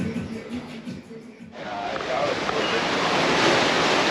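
Ocean surf at a Caribbean shore rushes and breaks, rising from a softer wash into a broad, steady roar of waves after a moment, with wind buffeting the microphone.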